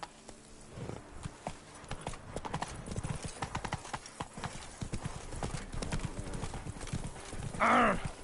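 Hooves of the horse Roach clip-clop in a steady walking rhythm in a video game, the soft repeated footfalls running throughout, with a whinny near the end and voices talking faintly.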